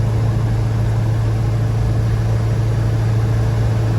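A Volvo Amazon 122S with a newly installed gearbox cruising on a highway at about 60 mph gives a steady, loud cabin drone with a constant low hum and no talk.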